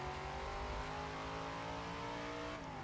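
Race car engine in Forza 7 droning steadily with shifting pitch as it overtakes another car, a continuous loud revving tone with no talking.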